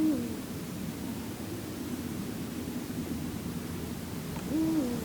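Male Eurasian eagle-owl giving deep hoots at night in a winter wetland, two low calls, one at the start and one near the end, over a steady faint background hiss.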